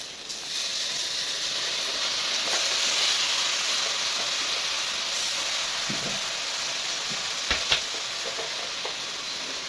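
Rice hits a hot pot and fries in oil, a loud, steady sizzling hiss with soft scraping stirs and a couple of sharp clinks near the end.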